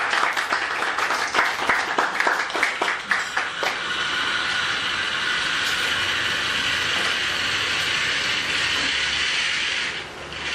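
Audience applause at a Toastmasters club meeting, starting with scattered separate claps, then settling into a steady, fairly loud wash of clapping that fades slightly at the end.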